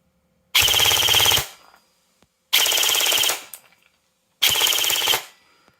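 An airsoft gun fitted with a Perun V2 Hybrid fires three loud full-auto bursts, each about a second long, as a rapid buzzing rattle separated by short silences.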